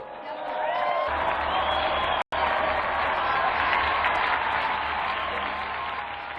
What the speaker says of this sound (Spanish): Brindemos hoy nuestro ferviente aplauso a San Juan Bosco